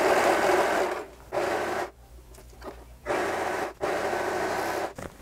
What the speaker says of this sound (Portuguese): Agora eu vou vir aqui no overlock e vou fazer uma costura só de chuliado na base, na barrinha do forro